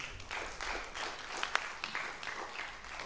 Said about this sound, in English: Clap on that word.